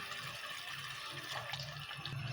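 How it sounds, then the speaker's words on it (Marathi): Water pours into a pan of chicken curry, a faint continuous splashing rush over a low background hum, with no talking. "आता थोडं पाणी टाकून फ्राय करून घेऊ।"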